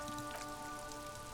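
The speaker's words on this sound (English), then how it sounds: "All around you, rain falls on the great city of Revachol." Steady rain falls across the city of Revachol in the video game Disco Elysium, a soft continuous patter of drops dripping from eaves and into gutters, with a faint tonal music bed beneath.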